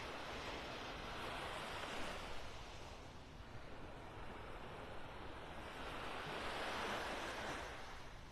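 Ocean surf washes steadily onto the beach at Delnor-Wiggins in North Naples, Florida, a continuous broad roar of waves mixed with wind buffeting the microphone, with no speech.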